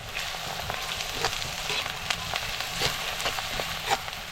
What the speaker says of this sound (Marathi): हा कांदा आपल्याला असा नरम करून घ्यायचा